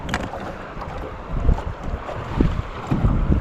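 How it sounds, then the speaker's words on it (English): Strong wind buffets a small Classic XL fishing boat on a rough desert lake, a constant loud roar of gusts and water with rumbling peaks, no talking. "It is a damn hurricane out there"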